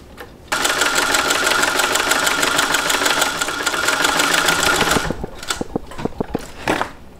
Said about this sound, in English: we're going to sew this together at 3/8 of an inch seam allowance